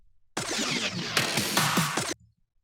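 Drum fill sample from a producer's bounce pack: a loud, dense roll of hits lasting just under two seconds, with sweeping pitch bends and a clean stop, alone with no talk.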